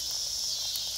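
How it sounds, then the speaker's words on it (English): Continuous high-pitched locust buzzing drones outdoors in Texas, a steady shrill whine with no pauses. "Locusts are going crazy, you know?"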